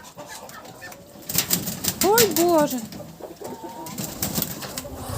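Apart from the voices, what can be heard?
white drake moving about the farmyard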